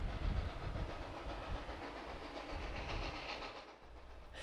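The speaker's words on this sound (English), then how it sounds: "The sound of heavy chugging indicates just how hard 425 is working to keep the 15-car train moving" Steam locomotive 425 chugs hard and steadily up a 1.4 percent grade hauling a 15-car train on the Reading and Northern, its heavy exhaust beats blending with rumbling rails and hiss, loud and continuous.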